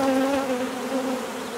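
Honey bees buzzing in a steady, dense drone during the transfer of frames from a five-frame box into a ten-frame hive box, loud and close throughout.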